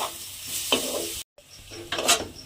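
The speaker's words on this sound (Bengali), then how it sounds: "ঘিয়ের মধ্যে পুরনো গাজরটা দিয়ে একটু ভাজা মতো করে নিয়েছি" Grated carrot stirred and fried in ghee gives a close, steady sizzle with scraping strokes of a spoon against the pan, briefly cut off by a moment of silence.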